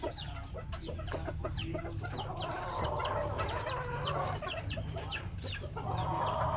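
Chickens cluck close by in a farmyard, a busy overlapping chorus of short clucks and chirpy peeps from hens and chicks, continuous over a low background hum.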